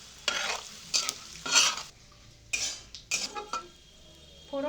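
Dry red chillies, bay leaf, five-spice seeds and asafoetida hit hot oil as a tempering, giving bursts of crackling sizzle and metal spoon-on-pan stirring clatter in separate close bursts, with quieter gaps between.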